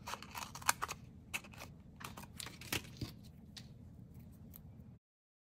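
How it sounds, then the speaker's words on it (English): Scissors snip through a strip of paper for a handmade faux envelope card, a series of short, close, crisp cuts over a faint background hum, with no voices. "And I will probably just cut a strip."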